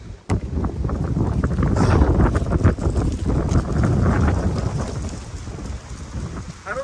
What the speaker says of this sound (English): as you can tell, it's a little windy out